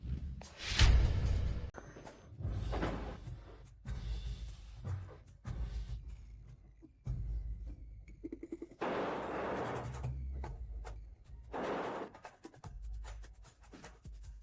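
Rocket firecrackers go off in a string of sharp bangs and whooshing bursts, some loud and close, others fainter, scattered unevenly over several seconds.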